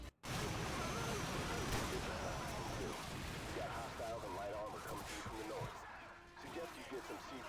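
Loud, dense game battle noise from Call of Duty 4 as C4 charges and shot barrels blow up tanks, a continuous roar of blasts and gunfire filling the scene, with a voice talking faintly in the mix.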